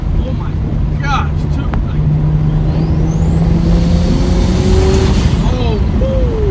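A car engine drives along an LA road, its loud, close drone rising and falling in pitch as it revs and shifts, with a faint voice underneath.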